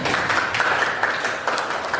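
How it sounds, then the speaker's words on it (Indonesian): Classroom audience at a teaching practice session applauds steadily, a dense continuous patter of hands at moderate level throughout. "Oke, tepuk tangan"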